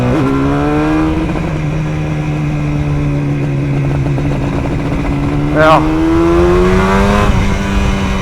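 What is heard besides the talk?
Yamaha RD400 two-stroke motorcycle riding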